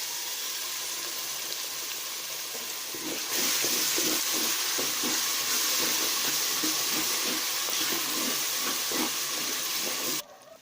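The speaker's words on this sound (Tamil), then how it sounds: "இப்போ நான் இது கூட நான் அரைச்சி வச்சிருக்கிற பாலக் போட்டுக்கிறேன்" Ground spinach (palak) paste hits a hot pan with onions, and a loud steady sizzle and hiss surges up and holds for several seconds before cutting off abruptly.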